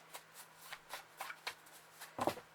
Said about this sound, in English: we're going to pull 2 animal cards here as guidance